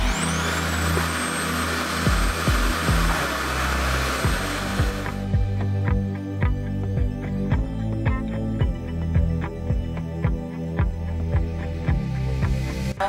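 A $400 blow dryer runs on high heat with a steady, loud whirring hiss that narrows into a humming motor drone partway through, continuous throughout.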